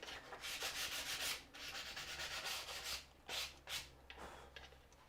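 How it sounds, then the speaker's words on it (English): Sandpaper rubbed by hand over the front edge of a wooden trinket box lid, a steady close scratchy rasp in repeated strokes, with several shorter, sharper passes toward the end and no talking. "Just a bit of sandpaper just to sand over that front edge."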